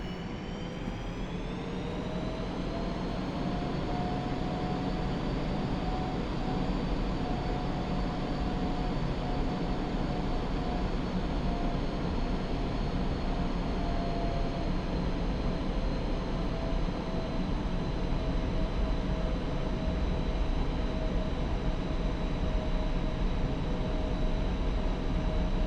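A military jet in DCS World taxis toward the runway at about 60% RPM, giving a steady, continuous engine roar with a high turbine whine that dips slightly early on, then holds level throughout.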